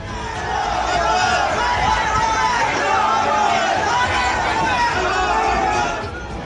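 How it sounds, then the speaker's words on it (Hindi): A large crowd gathered on a street in Haldwani chants slogans, a loud, dense wall of massed voices that swells in and holds steady before fading slightly at the end. "भीड़ सड़क पर पहुंचकर नारेबाजी करने लगी"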